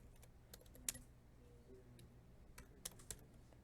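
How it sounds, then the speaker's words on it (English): Password typed on a computer keyboard in an Ubuntu terminal: a few quiet, scattered key clicks, with two or three sharper taps standing out over low background hum, no talking. "Enter in my password."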